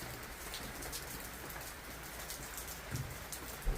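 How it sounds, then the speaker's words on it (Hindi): Heavy nonstop rain falls in a hill city in Mizoram, a dense steady hiss of drops on surfaces with a few louder nearby drips and faint bird calls behind. "नॉन स्टॉप बारिश हो रही है रात भर से।"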